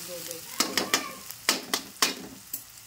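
Onions frying in a pan on a gas stove over a medium flame, a spatula scraping and knocking the pan in an irregular rhythm over a steady low sizzle, close by, with a faint voice at the start.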